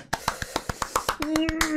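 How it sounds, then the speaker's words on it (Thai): Hand clapping, about ten sharp, evenly spaced claps close to the microphone, with a voice cutting in near the end while the clapping continues. "ปรบมือ"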